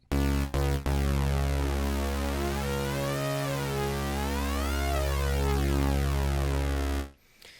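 A buzzy Retro Synth tone holds a steady low pitch while its upper harmonics sweep and shift as the oscillator sync knob moves, the timbre morphing continuously before cutting off.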